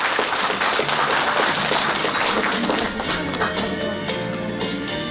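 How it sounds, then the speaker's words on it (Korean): Applause at a Korean Democratic Party election campaign event, a dense, steady wash of clapping from a crowd that fills the whole stretch at a fairly even level, with some murmur mixed in. "다시 한번 큰 박수 부탁드립니다."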